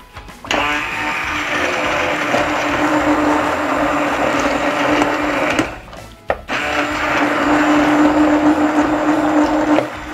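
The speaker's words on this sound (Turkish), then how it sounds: "Şimdi el blenderından geçireceğim." A hand blender purees vegetable soup made from pressure-cooked vegetables in plain water, whirring loudly and steadily for about five seconds, stopping briefly, then running again just as strongly to the end.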